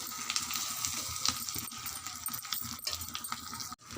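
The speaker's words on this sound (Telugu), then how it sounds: "తిప్పుకొని బాగా డీప్ ఫ్రై చేసుకోవాలి" Deep frying with ginger garlic paste in a pan, a dense, continuous sizzle and crackle with scattered sharper pops and scraping clicks, close and fairly loud throughout.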